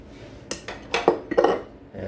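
A few close clinks and clatters as Spam is placed on a dish and utensils are handled, short knocks spread over about two seconds.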